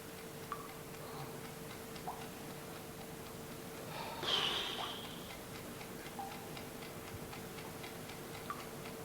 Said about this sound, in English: I hope that's your watch I can hear ticking.